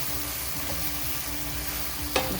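Fresh thyme, dried oregano and crushed red pepper stirred into a hot frying pan for chicken cacciatore, a steady close sizzle with soft stirring and one sharp scrape near the end.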